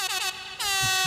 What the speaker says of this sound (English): Maybe air horn?